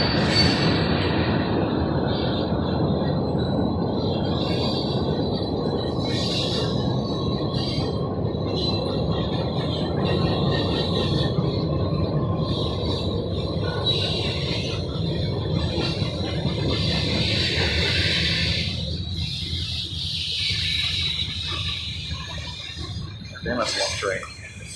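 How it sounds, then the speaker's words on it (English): A long freight train rolls steadily through a rail yard in Roanoke, Virginia, its continuous rumble and rattling wagons loud and close, with wheel squeal and a fading tail near the end, and brief talk over it. "Damn, that's a long train."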